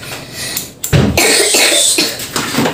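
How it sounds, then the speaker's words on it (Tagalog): A child coughs several times in a row, loud and close, with short harsh bursts and brief pauses between them. "Ubo pa tong isang anak ko kasi hilig-hilig sa aircon."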